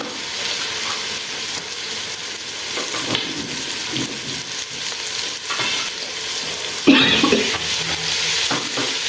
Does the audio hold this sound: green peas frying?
yes